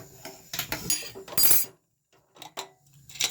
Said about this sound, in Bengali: এবার এটাকে দুটো সিটির জন্য ঢাকা দিয়ে দেবো, আটকে দিচ্ছি।